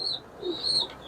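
High-flying pigeons coo softly at close range, a brief murmured call with a faint higher chirp, heard alone without voices.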